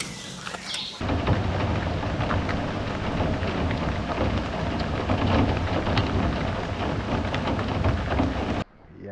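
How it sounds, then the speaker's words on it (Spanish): Steady rain begins abruptly and pours down on a camping tent as a dense, loud hiss for several seconds, with a low rumble beneath it. "Ya empezó la lluvia."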